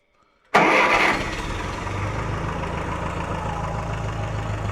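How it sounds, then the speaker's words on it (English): After a moment of silence an old Ferguson tractor engine cranks and catches with a loud burst, then settles into a steady, rumbling idle close by. "show you guys how it's idling. So, key on"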